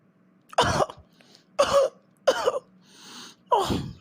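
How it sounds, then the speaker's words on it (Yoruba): A person coughs four times in harsh, separate bursts about a second apart, close and fairly loud, with a softer breathy throat sound between the last two. "ikọ́ yẹn ń wò mí ni"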